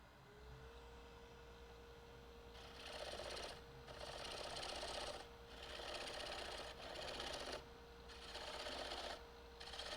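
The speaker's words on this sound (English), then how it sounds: "I'll do all this with a rotary sander" A handheld rotary sander works a natural-edge wooden bowl in repeated bursts of whirring, abrasive grinding of about a second each, broken by short pauses, all fairly faint and close.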